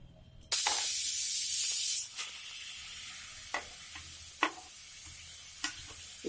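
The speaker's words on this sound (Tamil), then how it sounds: "பீட்ரூட்டை நல்லா நெய் ஊற்றி வதக்கிக்கலாம்." Beetroot sautéing in ghee in a pan opens with a sharp, loud burst of hissing sizzle that lasts about a second and a half, then settles into a faint, steady frying crackle with occasional small pops.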